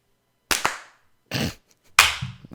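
Sharp, close hand claps in a quiet podcast room after a countdown, three distinct smacks spaced about a second apart, each with a short decaying tail.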